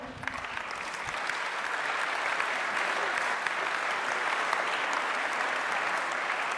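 An audience claps at a cycling-cities award ceremony, a broad, even wall of applause rising within the first second and sustained at a steady level throughout.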